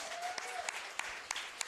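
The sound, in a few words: applause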